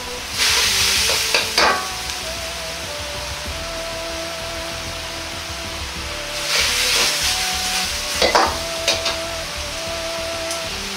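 Pork sauce thickened with dissolved potato starch stirred in a hot pan, a loud continuous bubbling sizzle with two bursts of scraping stirring strokes, nobody speaking.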